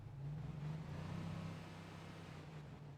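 Truck engine in the Antistasi game rumbling low and steady at a moderate distance, a continuous hum that eases slightly midway.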